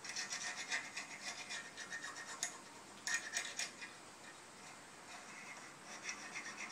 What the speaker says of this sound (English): take that drill bit and go right along the edge